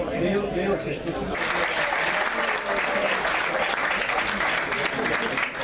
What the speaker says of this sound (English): Out come the teams to rapturous applause from the crowd.